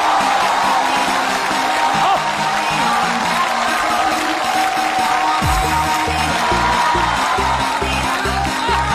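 Loud crowd noise fills a neighbourhood beauty-contest stage as a contestant is called out, with sustained cheering and clapping throughout, plus rhythmic low thumping music entering partway through.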